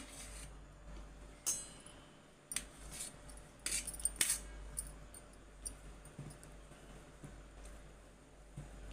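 A knife cuts a boiled potato into pieces in a home kitchen, giving faint, irregular clicks and taps against a board or plate, scattered amid a quiet room hum.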